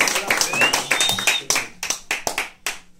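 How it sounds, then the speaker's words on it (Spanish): Live audience applause in a Mexican comedy or talk show setting, a dense burst of clapping that thins into a few separate claps before fading, with voices and chatter mixed underneath. "Y pues otro aplauso."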